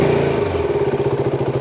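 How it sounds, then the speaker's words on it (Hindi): A BS6 motorcycle engine idles steadily after starting, with the check engine light on, a close, even mechanical putter with light clatter and no speech. "तो इस बाइक का इंजन जो है वो स्टार्ट है अभी"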